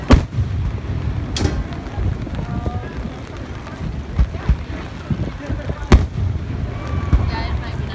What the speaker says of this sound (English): I don't know which fireworks do I video record?